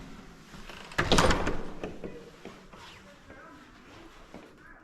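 A door is pulled open in a single quick motion for an arriving guest, a loud swish and clunk near the start followed by faint rustling and a soft thud as it settles.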